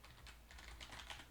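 Rapid, quiet clicking of keys on a computer keyboard during a short typing burst, soft and close with no voices.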